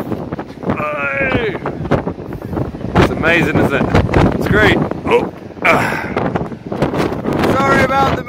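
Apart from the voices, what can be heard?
wind on a cliff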